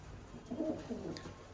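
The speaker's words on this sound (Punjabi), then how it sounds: "ਇੱਕ ਆ ਬੈਠੇ ਆਪਣੇ ਕਬੂਤਰੀ ਇੱਕ ਆ ਬੈਠੀ ਆ" Pigeons coo softly in a pair of low, burbling phrases, quiet and close, with no voices.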